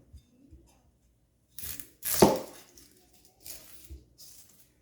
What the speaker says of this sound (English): I'll go ahead and cut up the onion.